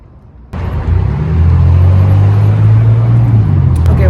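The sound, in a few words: car driving on the road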